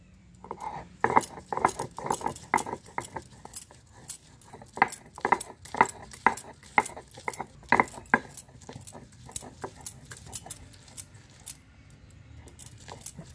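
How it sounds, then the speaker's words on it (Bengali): Fresh ginger being ground for Gandharaj chicken, most likely on a stone slab, giving a run of sharp, irregular knocking and scraping strokes, close and fairly loud, in uneven bursts with short pauses. "এবারে আমি আদাটা বেটে নিচ্ছি।"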